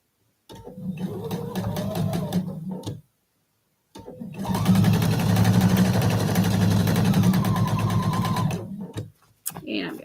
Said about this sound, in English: And I'm going to sew this one to here.